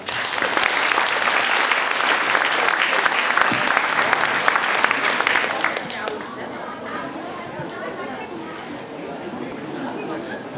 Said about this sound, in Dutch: Dames en heren, geef ze een hartelijk applaus.